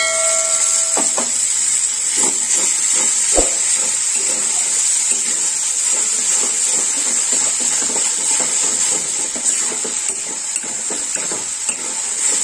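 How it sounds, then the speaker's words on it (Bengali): Ground tomato paste from two tomatoes sizzles and spatters in hot oil while being stirred in a pan for a Bengali fish curry, a steady bright hiss with scraping stir sounds, close and without talk. "তেল ছেড়ে দিয়েছে, এবার আমি টমেটো বাটা দেবো"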